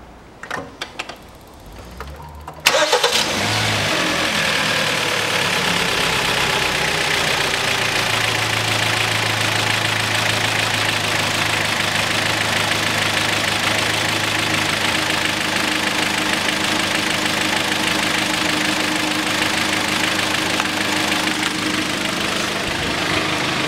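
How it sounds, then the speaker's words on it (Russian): A 2.0-litre Kia Sportage engine cranks briefly, catches, and settles into a steady, loud idle with a constant low drone that holds for about twenty seconds. "И запускаю автомобиль,"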